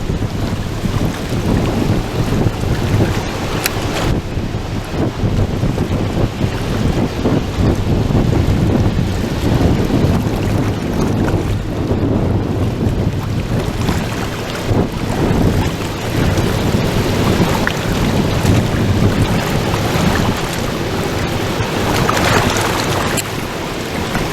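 Strong, gusty wind on a bull trout fishing spot in British Columbia buffets the microphone continuously in a loud, rumbling roar that surges and eases without letup.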